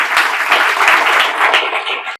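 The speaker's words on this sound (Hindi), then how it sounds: "उसके लिए आप लोग जोरदार ताली बजाइए।" Loud, steady applause from an audience at an event honouring an IIT student placed at an MNC, dense clapping sustained for about two seconds before stopping abruptly.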